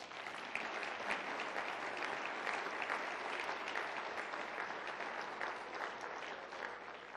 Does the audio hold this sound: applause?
yes